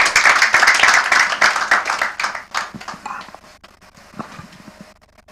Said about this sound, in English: A round of applause as he comes forward.